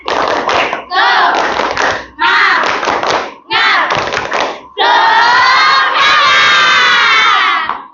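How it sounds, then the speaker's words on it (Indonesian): Students in a classroom perform a rhythmic spirit clap, four short bursts of patterned clapping mixed with children's shouting and chanting, then a long loud stretch of cheering and yelling. "Sekarang beri tepuk semangat untuk kalian semua."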